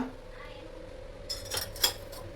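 A pan clinks twice against a kitchen stove, two brief metallic knocks over a steady low hum, with faint household talk in the background.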